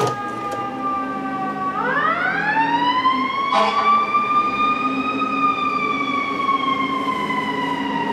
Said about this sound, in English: let's let the sirens go past.